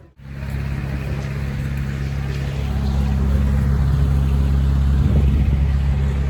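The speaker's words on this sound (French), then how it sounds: "les bruits de voiture qu'il y a eu derrière mon micro" Steady roar of car traffic passing close behind the microphone on a street in Malta, a continuous loud low rumble with no speech over it.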